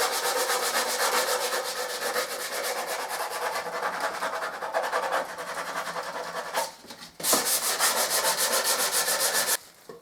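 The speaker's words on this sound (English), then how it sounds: "You're better off just curving them a bit with your sandpaper." Sandpaper rubbed back and forth over sharp wooden edges, a fast rhythmic scratching close to the listener that runs almost continuously, with short pauses near the end.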